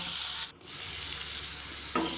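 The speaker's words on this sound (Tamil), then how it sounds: "இது ரெண்டையும் நல்லா பொரிய விட்டுக்குங்க" Steady sizzling as dried red chillies and other ingredients fry in a hot pan, a continuous hiss with a brief dip partway through.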